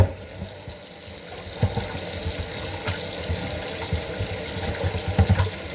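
Tap water runs steadily into a kitchen sink to rinse items after a vinegar soak before cooking in a rice cooker, a continuous close splashing hiss with small knocks and no talking.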